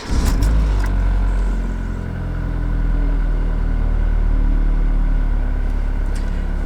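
A car engine, started with a jump starter, runs loud and close in a steady idle, with a brief dip and recovery in revs early on before settling into a continuous rumble.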